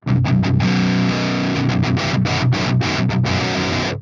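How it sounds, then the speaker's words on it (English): Heavily distorted electric guitar through the distortion channel of an amp plugin, with a tube screamer, plays chunky chords and short palm-muted bursts, loud and close, with brief gaps between strummed hits. "let's just look at the distortion channel here"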